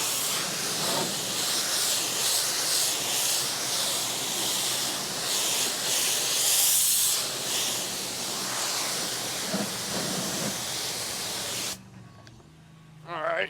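A commercial power washer sprays NMD80 cleaner onto a large building wall, giving a loud, steady hissing spray that runs without pause for about twelve seconds before cutting off abruptly, leaving quieter background noise.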